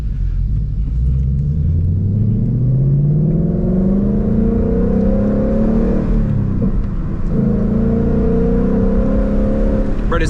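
A 2021 Ford Mustang Mach 1 V8 revs up from inside the cabin on a drive, its loud engine note rising steadily through the gears before dipping briefly near the middle and climbing again.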